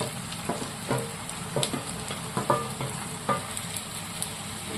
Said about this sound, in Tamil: இந்த தக்காளி பார்த்தீங்கன்னா நல்லா வெந்து குழஞ்சு வரணும், அது வரைக்கும் வதக்கிக்குவோம்